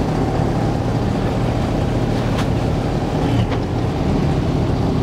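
An Envie3 pump in a wet well chews through a mop head, giving a loud, steady mechanical roar with a couple of brief sharper bursts, and no voices.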